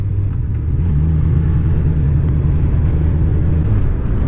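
A 2018 Honda CB1000R motorcycle with a roughly 143-146 horsepower engine, heard from the rider's position as a loud, deep, steady rumble held on throttle with no talking.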